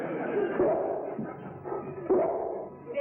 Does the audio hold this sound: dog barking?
yes